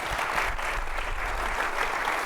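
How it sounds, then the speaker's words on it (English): An audience at a World Engineering Day event applauds a speaker being introduced, with brisk, dense clapping from many hands that stays steady and fairly close throughout. "Give her a round of applause"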